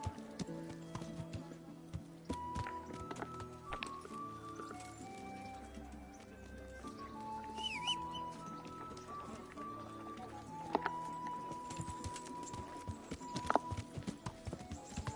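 Horse hooves clip-clop at a steady gait in the medieval game Kingdom Come: Deliverance, a repeated rhythmic patter beneath a layer of orchestral game music, fairly faint and continuous.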